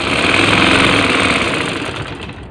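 A sewing machine stitches the folded-in hem of a ladies shirt, a steady close mechanical whirr running continuously and easing slightly toward the end.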